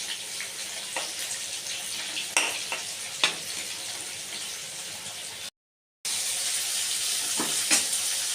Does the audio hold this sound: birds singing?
no